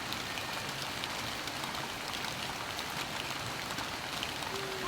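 Steady rain pours down in a dense, even hiss of drops hitting surfaces, continuous and unbroken with no voices.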